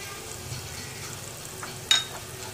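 Garlic and ginger paste frying in oil make a soft, even sizzle throughout, broken once by a brief metallic clink of a spoon.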